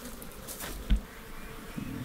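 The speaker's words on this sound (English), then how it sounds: "That's all the nice little nurse bees that have run up to look after those girls." Honey bees buzz quietly during a hive split, a soft, continuous droning hum with a faint bump partway through and no voices.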